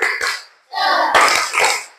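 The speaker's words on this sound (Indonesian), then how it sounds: "Tepuk semangat." Bursts of rhythmic hand clapping from a group of children in a classroom, patterned beats in short phrases with brief pauses between.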